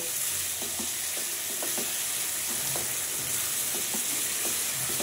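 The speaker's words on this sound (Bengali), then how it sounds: "আমি পেঁয়াজটা একদম বাদামি কালার হয়ে আসা পর্যন্ত পেঁয়াজটা নাড়াচাড়া করে নিব।" Onions fry in a pan, a steady loud sizzle with the soft regular scrape of a spatula stirring them throughout, no voices.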